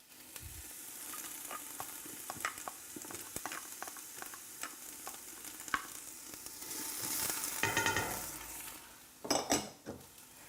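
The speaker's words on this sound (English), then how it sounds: "So we'll saute that for about 2 minutes or so, enough to get the scallions a little bit more translucent" Scallion whites and garlic sauté in melted butter in a pan, giving a steady close sizzle broken by repeated scraping stirs and utensil taps, swelling louder near the end with a few sharp clatters.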